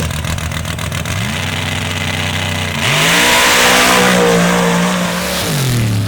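Drag race car at a night event in Mississippi launching hard, engine climbing through gears with a loud, continuous roar, pitch rising then dropping at shifts, with crowd and track noise behind it.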